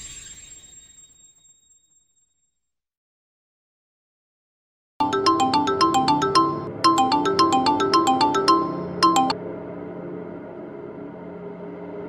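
An outgoing phone call rings through: after a fading tone and several seconds of silence, a loud melodic ringtone plays in repeated rhythmic bursts, then continues as a steadier tone.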